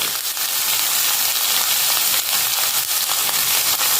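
Curry leaves dropped into hot oil in a pan for an Andhra-style chicken gravy, giving a loud, close, continuous sizzle and crackle that holds steady throughout with no voices.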